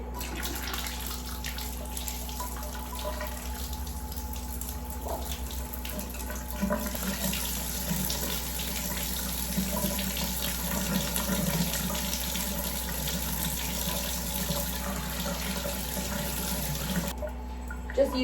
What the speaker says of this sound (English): we can run some hot water through this